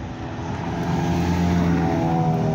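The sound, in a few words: cars arriving at a car meet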